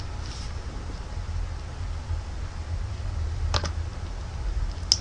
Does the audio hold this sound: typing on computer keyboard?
yes